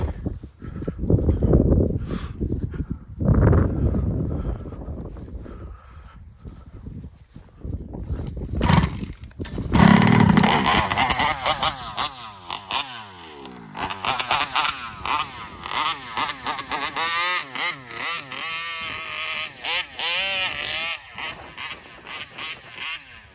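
A small high-revving RC car engine with a broken exhaust spring sputters to life after some clatter, then buzzes steadily with rising and falling whines, loud and close, with a few voices in the background.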